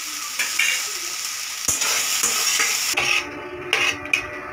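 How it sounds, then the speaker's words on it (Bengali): Dry green chillies and a little salt fry in a pan with a steady sizzle and crackle, broken by a few stirring scrapes and clinks, with no talking. "অল্প ভেজে নিয়েছি আমি।"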